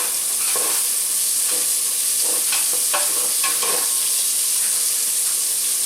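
Sausages frying in a pan for chilli, a constant bright sizzle with intermittent scraping stirs, close and alone without talk.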